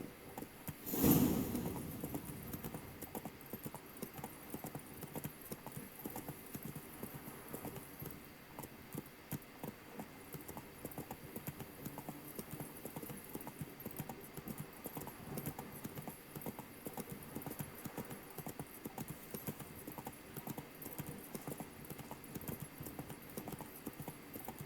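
A horse trots steadily along a road in the video game The Witcher 3, its hooves making an even, continuous clip-clop rhythm that stays moderately close throughout, with no talking over it.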